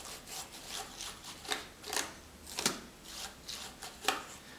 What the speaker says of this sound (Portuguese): passando aí o pincel para retirar toda a sujeira de dentro do teclado